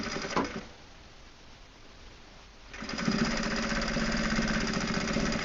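A sewing machine stitches a denim phone wallet, a brief burst of stitching, then a pause, then a loud, steady mechanical whir of the needle running close up.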